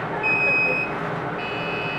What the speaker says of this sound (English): On the buzzer.